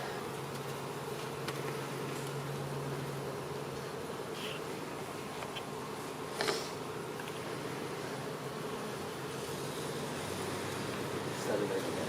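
Honey bees swarm around an opened, active beehive with a dense, continuous drone that holds steady for the whole stretch, close and even, with a few faint handling knocks and no talking.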